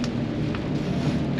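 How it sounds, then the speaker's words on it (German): Heavy rain pours down with a deep rumble of thunder, a dense continuous roar of falling water with a low rolling boom underneath, close and loud, with no voices. "Jetzt fängt es hier wieder an zu regnen ohne Ende. Gewittert hat es eben."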